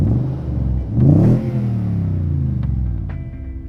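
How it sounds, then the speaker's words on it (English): A Toyota Tundra TRD Pro with its factory-tuned exhaust revs up once in a loud, rising burst, then settles to a deep, throaty idle rumble close by. "TRD Pro comes with a specifically tuned exhaust for it."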